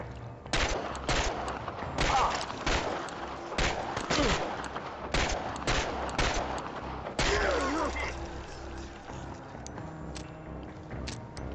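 Gunfire in the video game Chernobylite: rapid overlapping bursts and single shots crack close and loud over the first eight seconds, then give way to quieter background noise.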